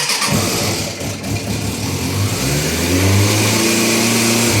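A Suzuki Bandit 600 S motorcycle engine with the choke on cranks briefly, catches and starts, then settles into a loud, steady, rich idle that builds slightly toward the end, with no talking over it.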